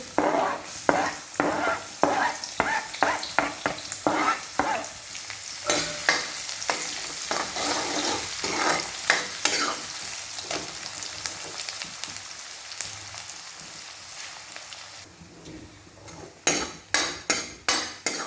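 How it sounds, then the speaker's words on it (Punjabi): Onions frying in hot oil, a continuous sizzle broken by a rhythmic run of spatula scrapes and clanks against the pan, pausing briefly before a final cluster of quick stirs. "ਤੇਲ ਗਰਮ ਆਪਣਾ ਹੋ ਚੁੱਕਿਆ ਤੇ ਆਪਾਂ ਹੁਣ ਇਹਦੇ ਵਿੱਚ ਪਿਆਜ਼ ਪਾ ਦਾਂਗੇ"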